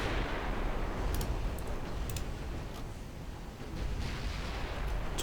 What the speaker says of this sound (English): Can you fire AP shells, please?